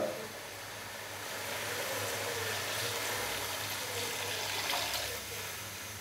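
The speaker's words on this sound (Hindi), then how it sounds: "अभी मैं इसके अंदर 5 गिलास पानी डालूंगा" Water pours steadily into a cooking pot of rice for chicken pulao, five glasses in all, giving a continuous splashing rush at close range with no talk over it.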